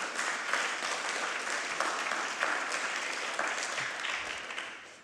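A crowd at an Oxford generative AI hackathon prize ceremony gives a sustained round of applause, a dense, even wash of many hands that thins and fades at the end.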